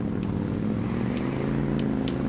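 A motorcycle ridden in the Watch Dogs video game gives a steady, close engine drone with a low, humming tone that holds evenly throughout, with faint clicks above it.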